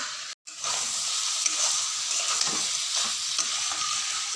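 Mutton pieces sautéing in a fried spice masala, releasing their own water, give a steady loud sizzle with scraping stirs, broken by a brief silence near the start.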